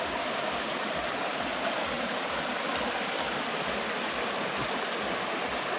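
Steady rushing river water flows continuously, a dense broadband wash with no breaks and no voices.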